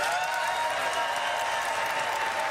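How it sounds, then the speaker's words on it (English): Applause at the State of the Union address, a steady dense wash of clapping from a large hall crowd, heard at a distance and fairly faint throughout. "The applause from the First Lady, Dr. Jill Biden."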